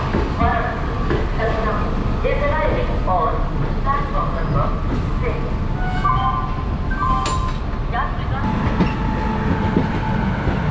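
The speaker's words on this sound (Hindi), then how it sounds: "यहाँ से ट्रेन खुल चुकी है।" Shramjeevi Express pulling out of Pandit Deen Dayal Upadhyaya station, a steady rumble of carriages rolling on rails with faint clicks, heard from on board under continuous background noise and voices.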